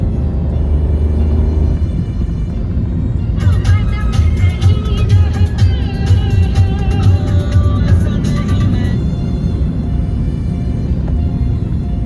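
Maruti Wagon R heard from inside while it climbs the entrance ramp onto the Samruddhi expressway. A loud, steady road and engine rumble fills the whole stretch, and a brighter tonal layer rides over it in the middle.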